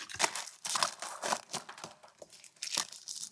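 A paper bag crinkles and rustles in repeated bursts as a parcel is unpacked, close and fairly loud with no talk.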